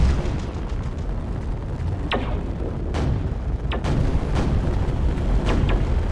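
Explosions in the sci-fi video game Sigma Draconis during an attack by the Order Vanguard, a dense rumbling barrage of booms and bursts with several sharp blasts standing out over a continuous roar.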